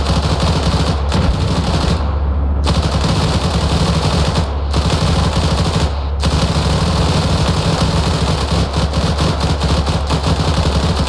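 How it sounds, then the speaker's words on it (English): Sustained heavy machine gun fire in the Arma 3 military shooter during a tank battle, rapid continuous bursts that are loud and close, with a few brief pauses and a rumbling engine underneath. "Lighting these motherfuckers up with this 50, or with the fucking machine guns."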